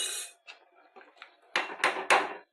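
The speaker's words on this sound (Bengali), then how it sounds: "এবার ঢাকা দেব, ঢাকা দিয়ে রান্নাটা হোক" A lid goes onto a cooking pot of simmering kakrol (spiny gourd) curry: a few light metallic clinks and knocks, then three louder clattering bangs close by, with no talk.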